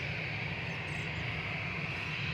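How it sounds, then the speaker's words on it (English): Airbus A330-300 airliner arriving at Manchester Airport, a steady broadband jet roar heard at moderate distance, constant and unbroken over a couple of seconds with no voices. "A330-300 will be the next arrival."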